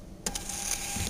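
A small receipt-style printer prints a hold slip after library materials are discharged, a short buzzing mechanical whir with a couple of brief clicks at the start, close and steady throughout.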